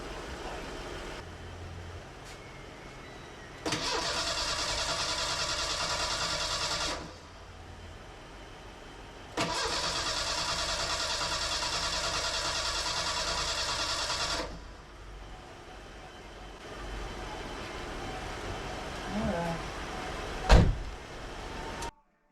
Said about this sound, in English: It did crank, it coughed a little bit, but I couldn't get it to start.